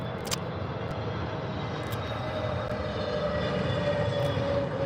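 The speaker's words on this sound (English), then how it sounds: "you can hear the Neo engines, CFM LEAP engines." Steady, broad roar of an Airbus A320neo with CFM LEAP engines on short final into London Gatwick runway 26L, continuous and moderately distant, with no talking.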